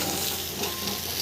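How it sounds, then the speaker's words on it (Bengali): Potatoes fry in a pan, with a steady close sizzle that ends in a brief clink near the finish. "আলুগুলো বেশ ভালো ভাজা হচ্ছে, কালার করছে ভালো।"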